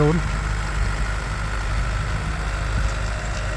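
A New Holland 7740 tractor with a four-cylinder turbo engine idles steadily up close, a low constant rumble with a brief voice at the very start.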